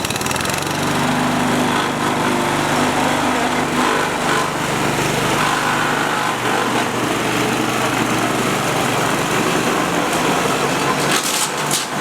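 A petrol walk-behind lawn mower runs steadily and loud in an outdoor school setting, its engine droning continuously and close by, with a brief change near the end.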